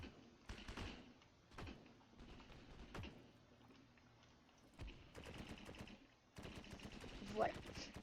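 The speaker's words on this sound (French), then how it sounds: "Là, j'ai une mitraillette" Machine gun fire in the war video game Hero and General comes in several short, sharp bursts separated by quiet gaps, fairly faint overall.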